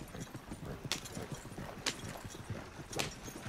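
Horse hooves clip-clop in the Red Dead Redemption 2 video game, a steady rhythmic trot of soft thuds with a few sharper hits, heard close and continuous with no talk over it.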